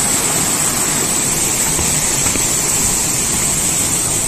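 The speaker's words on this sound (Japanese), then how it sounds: "水の音聞いてるだけだと体に良さそうやよね。" A waterfall in a forest gorge in Tamba, Japan, roars as a loud, steady, unbroken rush of water close by, with no voices.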